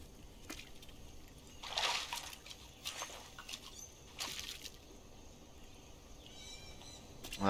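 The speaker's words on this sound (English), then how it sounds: "There's a nice pool of water" Soft water sounds from a jungle pool in the survival game Green Hell: faint splashes and sloshing, a few brief louder swishes over a quiet ambient background.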